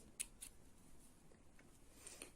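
Scissors snip embroidery thread during needle lace work, giving a couple of quiet, sharp clicks near the start against a faint, hushed room background.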